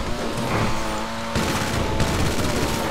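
Rapid gunfire bursts from the mounted guns of a Pfister Comet SR off-road car in GTA V, loud and continuous over a low engine rumble, with a voice faintly underneath.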